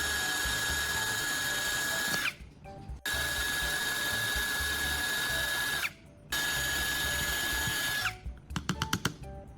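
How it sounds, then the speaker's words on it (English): A power drill boring holes in a pipe for tool storage: a steady high-pitched whine held for about two seconds at a time, repeated three times with brief pauses, ending in a quick burst of ratcheting clicks, loud and close. "I'm drilling holes at each of my marks."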